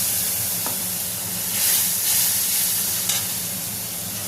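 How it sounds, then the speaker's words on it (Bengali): Masala for an egg curry with coriander leaves sizzles steadily in hot oil, swelling into louder hissing bursts around the middle and again near the end as water hits the pan; no one speaks. "এবার একটু জল দিয়ে দেবো।"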